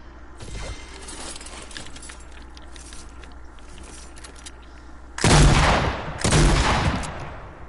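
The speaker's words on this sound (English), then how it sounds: "I'm gonna test it now. I'm gonna shoot a couple of times." Two loud, booming shotgun blasts from a new Fortnite shotgun ring out near the end, following a stretch of quieter in-game ambience with faint clicks.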